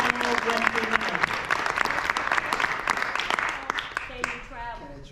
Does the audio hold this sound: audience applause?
yes